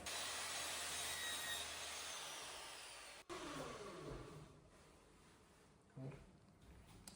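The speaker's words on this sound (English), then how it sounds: "always cut your bead a little bit longer and then trim it down to the exact length" A hand saw cuts through a wooden window bead with a steady rasping stroke sound for about three seconds, then quieter rubbing and a few lighter strokes follow.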